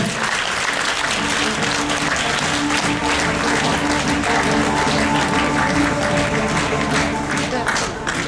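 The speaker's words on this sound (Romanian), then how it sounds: "Să o aplaudăm!" A seated audience at an onstage presentation breaks into sustained, loud applause, a dense continuous clatter of many hands lasting the whole stretch, with some voices faintly underneath.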